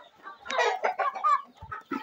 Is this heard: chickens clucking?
yes